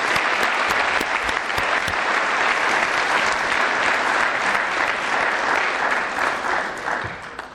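An audience at a Kern County Fire Department academy ceremony applauds the instructors, sustained thick clapping filling the room evenly before fading in the last second.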